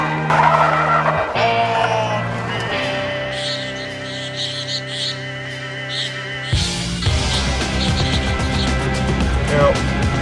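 A 2000 Jaguar XJR with 370 horsepower and a Quaife limited-slip differential slides with its tires skidding, loud and continuous over a steady engine roar that surges sharply partway through.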